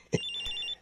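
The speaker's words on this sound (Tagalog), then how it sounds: "may tumatawag sa cellphone ko ah" A cellphone rings with an incoming call in a kitchen, its electronic ringtone trilling steadily just after a short thump.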